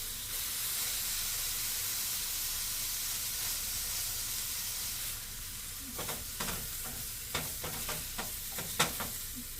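Seitan sears in a hot pan with a steady, loud sizzling hiss, and a spatula scrapes and stirs in scattered clicks and scuffs over the last few seconds, close up with no talking.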